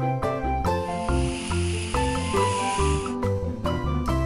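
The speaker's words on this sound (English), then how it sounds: "Snake sounds like." A snake hisses in a long, breathy rush, standing out against a background of tonal music that keeps playing throughout.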